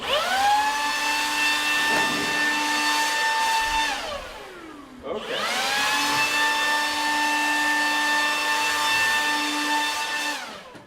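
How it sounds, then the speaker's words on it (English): A handheld leaf blower whines loudly and steadily nearby, winds down to a near stop about midway, then spins back up and runs on at full pitch. "I also brought a leaf blower if you just want to hold on to that and turn it on."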